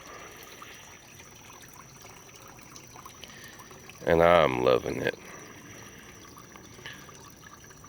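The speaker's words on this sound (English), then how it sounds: "I like the waterfall, just the water flowing." A small bucket pond's waterfall trickles and splashes softly and continuously in the background, a steady gentle flow broken by a man's brief spoken remark in the middle.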